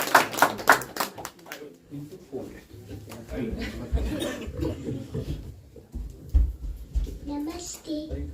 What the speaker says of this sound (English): Let's give a round of applause even before the start also.